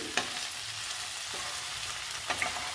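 Okra pieces frying with coriander powder and garlic paste in a pan, a steady soft sizzle with a few stirring clatters near the start and end.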